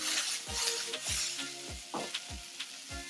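Chopped onions sizzling in a hot pan as the base for a Thai-inspired oxtail stew, with a steady frying hiss and about six repeated stirring scrapes spaced roughly half a second apart.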